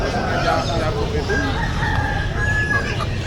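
A rooster crows amid the busy murmur of a Palembang bird market, the call thin and partly buried under steady crowd noise and nearby talk.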